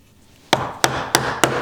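A chisel is struck with a mallet while cutting a mortise for a wedged mortise and tenon joint in wood, giving four sharp, evenly spaced knocks, close and loud, each followed by a brief ringing tail.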